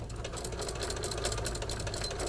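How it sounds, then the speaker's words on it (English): Sewing machine running steadily at close range, a rapid, even chatter of the needle stitching fabric for an acorn garland, uninterrupted for a couple of seconds. "we're just going to sew it in place"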